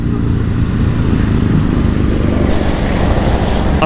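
A 2021 Ducati Hypermotard 950 SP motorcycle being ridden in the lower gears, its engine a steady close roar blended with constant wind rush for the whole stretch.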